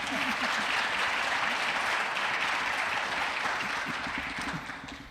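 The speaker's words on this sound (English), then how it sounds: "So a round of applause, please, for a great panel." At a medtech conference plenary, the audience applauds a panel of Minnesota-connected women leaders: dense, even clapping from a crowd that holds steady for about five seconds and tapers slightly at the end.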